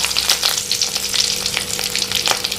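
Green chillies and cumin seeds crackling in hot oil for a liver curry, a loud, close, busy sizzle with sharp spitting pops and bursts of stirring, and no voices.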